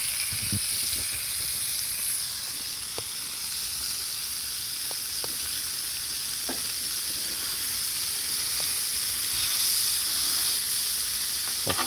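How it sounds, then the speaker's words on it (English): Burgers sear on a Blackstone griddle at a lakeside cookout, a steady loud sizzle and hiss running throughout with a few faint pops and clicks. "We're going to sear these burgers up."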